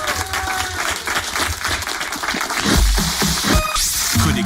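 A radio studio audience applauds a singer with steady, dense clapping, close and sustained, with a few deeper thumps near the end.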